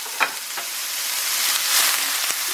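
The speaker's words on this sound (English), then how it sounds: "And stir them around and saute." Onions and tomatoes sautéing in a hot pan, a loud close hiss of frying with a few stirring scrapes and taps, steady throughout with no talking.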